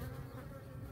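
Honeybees in a weak colony drone steadily inside a traditional wooden hive, a close, continuous, even buzz with no voices over it.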